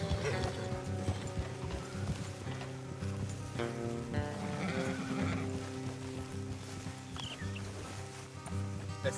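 Horses in the video game Red Dead Redemption 2 clop steadily across the ground and neigh, layered over rhythmic in-game music with a soft, rain-like hiss.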